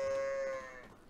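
A sheep bleats in the medieval farming game Medieval Dynasty: one drawn-out, tonal animal call that holds steady and then fades within about a second, heard alone and close.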